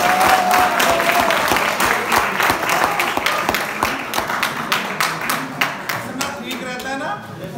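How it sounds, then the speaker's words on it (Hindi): Applause and clapping from an audience of children at a school talk, a steady dense patter of many hands held throughout, loud and close, with some voices mixed in. "एक बार ताली बजा दो बेटा।"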